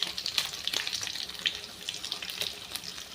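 Drumstick pieces and a little masala frying in oil for sambar, a steady close crackling sizzle with bright spitting pops throughout.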